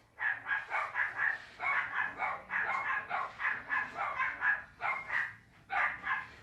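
A steady run of rapid, close barking from several dogs, volley after volley with brief pauses, loud and continuous across the whole stretch.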